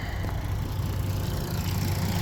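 A 2004–05 Mercury 60hp inline four-cylinder EFI four-stroke outboard idles after being restarted, a low steady rumble heard fairly quietly and close with no voices.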